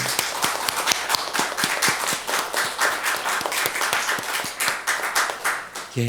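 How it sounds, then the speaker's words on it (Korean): A church congregation claps together, a dense run of loud, rhythmic hand claps rolling steadily through the room, with faint voices underneath. "우리 다시 한번 우리 예수님께 감사와 영광의 박수를 올려드리겠습니다."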